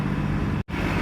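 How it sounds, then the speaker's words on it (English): A city bus idles loudly at a bus stop, its engine a steady dense rumble that fills the scene with one brief dropout. "Pardon the bus noise"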